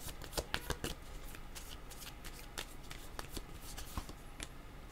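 Tarot cards being shuffled by hand, a steady run of crisp riffling and flicking snaps at close range, loud and continuous with no voice over it.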